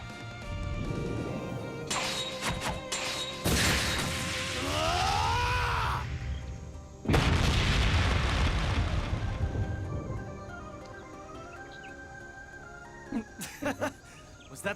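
The Ungula barrage attack in the RPG Trails Beyond the Horizon, a chaotic run of crashing impacts, whooshing sweeps and rising tonal effects over a musical backdrop, ending with a few sharp hits.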